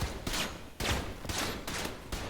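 Rapid bursts of full-auto Glock pistol fire in the shooter game Trepang2, several loud clustered volleys in quick succession with brief gaps between them.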